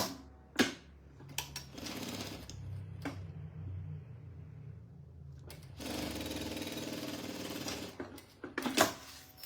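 A sewing machine stitches fabric for a bread basket in several close, rattling bursts of rapid needle strokes, separated by brief pauses.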